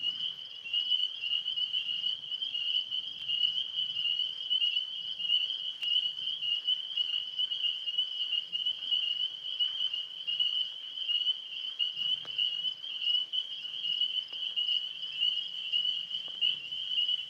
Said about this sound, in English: we have the big frogs that are down in the pond, and then the high-pitched ones are up in the trees